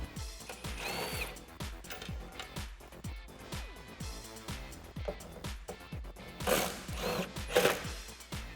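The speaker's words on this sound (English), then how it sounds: "I'm gonna use a 13mm socket in my impact as well as a 3/8 inch drive hand ratchet in order to remove those bolts" An impact wrench fitted with a 13mm socket works on Jeep Wrangler spare tire carrier bolts, firing repeated rapid hammering bursts amid clicks and clanks from the tools.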